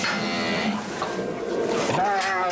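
Beef cattle moo in long, drawn-out lowing calls, several overlapping bellows close by and fairly loud.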